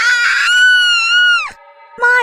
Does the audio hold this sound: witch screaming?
yes